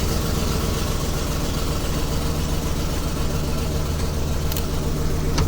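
A gas or diesel 2008–2010 Ford Super Duty F250, 350 or 450 pickup idles with a steady, continuous low engine drone, close and unbroken, with a faint click near the end.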